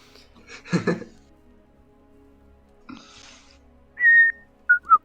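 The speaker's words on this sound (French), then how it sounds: "C'est vrai que ça sature son sifflement" A loud, piercing whistle rises near the end in two or three short sharp bursts, preceded by faint murmuring voices and a brief rustle.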